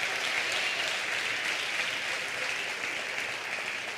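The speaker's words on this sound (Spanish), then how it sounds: "Dale un aplauso, Señor." Congregation applause at a Spanish-language church service, a sustained, even wash of many hands clapping together, moderately loud and unbroken throughout with no clear voices on top.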